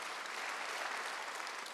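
A church congregation applauding during a Sunday worship service, a dense steady burst of many hands clapping at moderate distance, sustained evenly for the short stretch.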